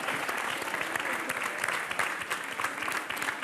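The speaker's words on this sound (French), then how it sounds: "Merci, on peut les applaudir, merci d'avoir joué le jeu." An audience at a live hypnosis show breaks into lively applause, with many hands clapping densely and steadily throughout.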